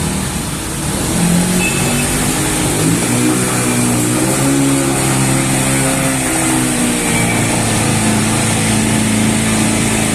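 A 125 to 150 cc Katigas motorcycle engine runs close by, revving with rising and falling pitch over a steady idle for about ten seconds.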